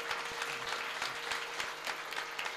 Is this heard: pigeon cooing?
no